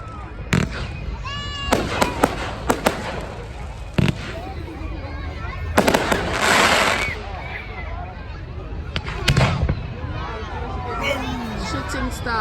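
Fireworks burst and crackle during a Bonfire Night display on 5 November, with sharp bangs and fizzing crackles spread through the clip over a crowd murmuring and talking nearby.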